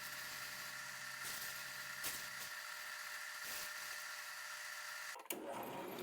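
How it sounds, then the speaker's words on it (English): A 1-inch drum sander with 220-grit paper works a rosewood plane tote, giving a steady, moderately loud whirring hum with faint bumps as the wood touches the drum, ending with a brief clatter near the finish. "I have this 1-inch drum sander that I picked up from Lee Valley, and I'm using 220 grit sandpaper."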